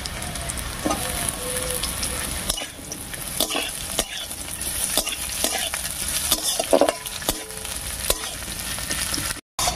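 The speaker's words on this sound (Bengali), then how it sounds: "এবার এর মধ্যে দেবো পেঁয়াজ কুচি আর চিড়ে দেখা কাঁচা লঙ্কা।" Chopped garlic, onion and green chilies fry in a pan while being stirred, for a taro leaf bharta. A steady close sizzle runs throughout with frequent spatula scrapes and clinks, and no one speaks.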